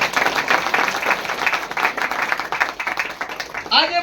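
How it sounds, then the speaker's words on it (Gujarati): A church congregation claps hands in thanks to God, a dense, steady patter of many hands filling the room loudly for several seconds before a voice breaks in at the end. "તાળી પાડીને દેવનો ધન્યવાદ."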